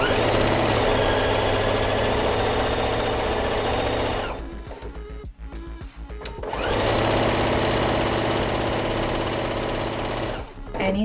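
A sewing machine stitches quilt strips for a strip-pieced quilt, running in a steady, loud whirring drone, pausing briefly in the middle before starting up again, then stopping near the end.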